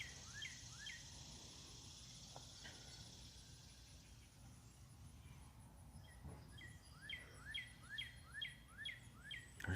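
Small black-and-white birds sing outdoors in the morning, with thin, quick descending chirps in short bursts, faint at first and then a faster run of repeated notes near the end, over steady low ambient noise.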